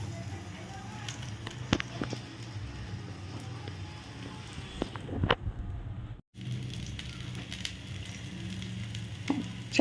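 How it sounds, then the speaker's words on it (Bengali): Eggplant fritters (beguni) fry in a little oil in a frying pan, giving a steady soft sizzle with occasional sharp crackles and a brief dropout partway through. "আমি অল্প তেলে ফ্রাইং প্যানে ভেজে নিচ্ছি"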